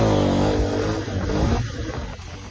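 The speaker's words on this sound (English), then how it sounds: "Second gear, pop the clutch." A dirt bike launches hard in second gear after the clutch is popped, its engine roaring loud and close with a rising, gritty rev that holds steady through the run.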